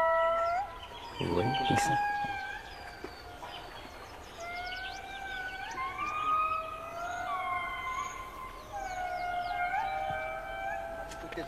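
Indri lemurs in a Madagascar forest give long, wailing, siren-like calls that glide up and down in pitch, several voices overlapping in a sustained chorus, with a brief spoken remark near the start.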